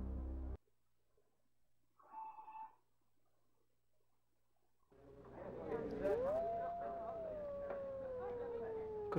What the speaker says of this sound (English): It was a wolf's howl, Governor.